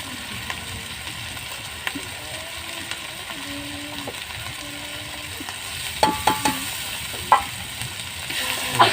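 Meat masala and spices frying in a pan for a desi meat kosha, a soft sizzle under clinks and scrapes of a spoon against the pot, with louder knocks near the end.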